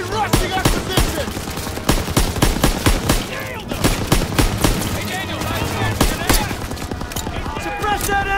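Machine gun fire rattles in dense, rapid bursts during a World War II battle in the video game Call of Duty WWII, with loud shots and impacts over shouted voices.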